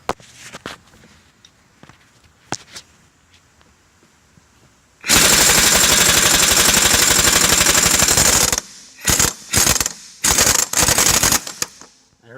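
An impact gun loosening a wheel nut on an R34 GT-R racecar in an empty garage, a long loud rattling hammer burst after quiet taps, then several shorter bursts close by.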